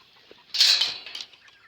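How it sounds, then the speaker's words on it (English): A chicken on a small farm gives a single short, close cluck-like squawk that fades within about a second. "all my chickens are going to get out if I do this"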